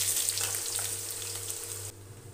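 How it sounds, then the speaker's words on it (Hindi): Chopped potatoes frying in medium-hot oil in a pan on a gas flame, a steady close sizzle and crackle that drops away near the end, with no talking. "फ्राई कर लेंगे आलूओं को थोड़ी देर के लिए, पलटते पलटते रहेंगे।"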